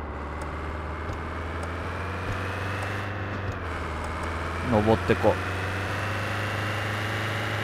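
A truck engine in a logistics simulator game hums steadily at idle or low revs, a constant drone with a brief rise in pitch, under a man's speech.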